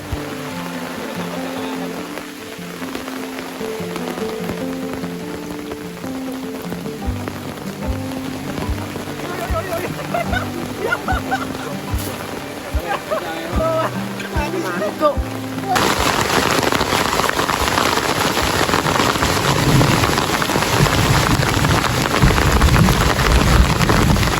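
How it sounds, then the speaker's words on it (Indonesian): Heavy rain drums steadily on a tent roof in a forest camp. A voice is faint underneath at first, then the downpour swells into a dense, loud roar. "Suara air menghantam atap tenda tanpa henti."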